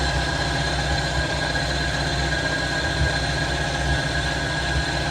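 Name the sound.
idling carburetor engine of an MK3 Volkswagen Jetta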